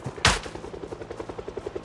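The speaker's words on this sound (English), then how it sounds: "here comes the helicopter" In the video game Project Zomboid, a helicopter passes overhead with fast, evenly spaced rotor thumps under a steady drone, and one loud sharp bang near the start.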